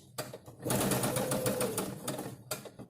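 A sewing machine stitches fabric on a first beginner project, running in one steady close whirring burst of about a second and a half between quieter handling clicks as the fabric is pivoted.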